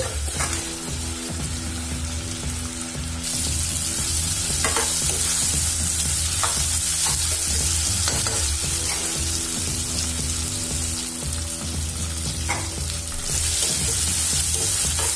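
Finely chopped tomatoes fry and soften in a pan for an Andhra-style dhappalam, giving a steady sizzle with repeated scraping stirs throughout, close and fairly loud, with no talking.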